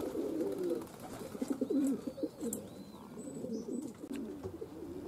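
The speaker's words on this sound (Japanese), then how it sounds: "今ここに飛んでいる鳥は遠征に行かなかった鳩たちです。" Domestic racing pigeons that stayed home from a training flight coo softly in repeated low calls near a loft in the early morning, with faint wing flutters and distant chirps behind them.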